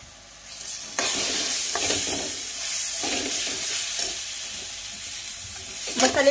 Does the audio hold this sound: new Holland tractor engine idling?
no